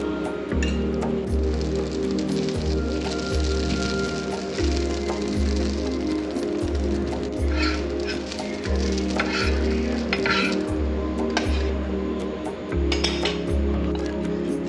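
Two dosas fry on a hot pan with a steady, close, crackling sizzle that runs throughout over a light, repeating musical background.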